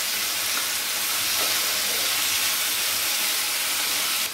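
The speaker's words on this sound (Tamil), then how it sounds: "இதை வந்து அப்படியே வதக்கிடலாம்." Fresh mint leaves being lightly sautéed in a pan for a coconut-free chutney, producing a steady, loud broadband sizzle that continues without pause.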